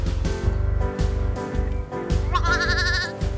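On a farm, a ewe and her lamb are being coaxed back into a field below. A clear, wavering bleat rises near the end over a steady, pulsing low rumble in the background.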